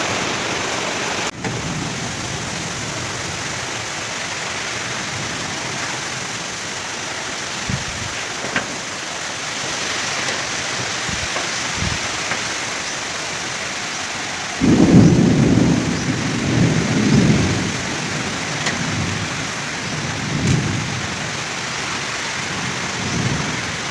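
Torrential rain roars steadily throughout a thunderstorm, with a loud burst of thunder rumbling midway and a few fainter rolls trailing after it.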